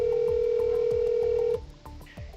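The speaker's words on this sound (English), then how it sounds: "She grabs her phone and dials 911." Telephone keypad dial tones for an emergency call: a steady held tone with repeated short beeps, cutting off abruptly partway through, followed by faint line noise and soft clicks.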